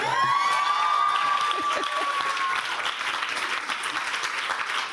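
Audience at a demo day breaks into loud applause and cheering, a whoop rising over dense clapping that carries on steadily and then eases slightly.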